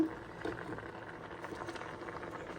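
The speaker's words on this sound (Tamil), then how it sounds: "ஒருக்கா கொதிக்கட்டும்." Tamarind rasam boiling in a pot, a soft continuous bubbling and gentle patter heard close and quiet, with no talk over it.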